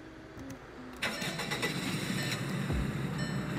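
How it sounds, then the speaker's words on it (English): A Volkswagen Golf R engine cranks and catches about a second in, then settles into a steady, fairly loud idle close by, with no talking. "here's the startup sound on the Volkswagen"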